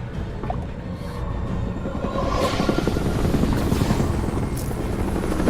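Helicopter in the video game Marlow Briggs: a steady, loud rotor drone with a dense low churning throb, running throughout and swelling slightly partway through, with no talk over it.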